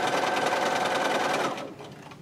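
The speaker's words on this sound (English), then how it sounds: "just going to sew a 1/4-inch seam all the way to the end." Sewing machine stitches a quarter-inch seam through quilt fabric, a fast, even whirring clatter running steadily up close, then slowing and quieting near the end; no speech.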